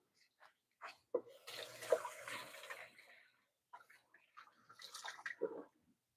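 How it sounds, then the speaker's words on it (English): Hands rinsed under a running kitchen tap, heard as two short, faint bursts of splashing water separated by a brief quiet gap. "I'm gonna give my hands a quick rinse"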